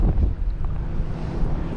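Strong wind buffeting the microphone on a kayak out on open water, a loud continuous low rumble with gusty swells and faint water washing beneath.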